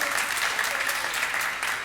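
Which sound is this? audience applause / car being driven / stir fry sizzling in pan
audience applause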